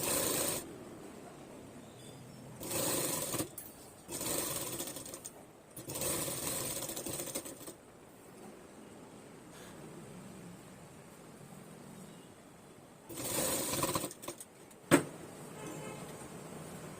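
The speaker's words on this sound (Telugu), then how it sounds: "ఇలా పెట్టి కుట్టండి" A sewing machine stitching blouse fabric runs in several short bursts of a few seconds each, a close whirring hum separated by quiet pauses, with a sharp click near the end.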